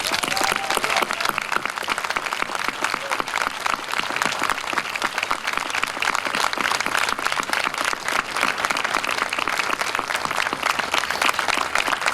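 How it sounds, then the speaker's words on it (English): A crowd applauds soldiers at a military change-of-command ceremony, with sustained, dense clapping that holds at a steady level throughout. "So I'd like you all to give my soldiers a great round of applause."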